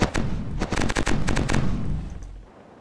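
Ship cannon broadside in the naval video game Corsairs: Return of a Legend, a loud rapid volley of booming shots in quick succession, then a rumbling decay fading out.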